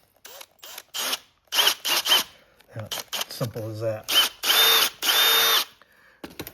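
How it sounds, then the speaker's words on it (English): Power drill boring through convertible top fabric on a 1974 VW Super Beetle Sun Bug, several short close whirring bursts with pauses between, someone talking around and between the runs. "I gotta drill it this way."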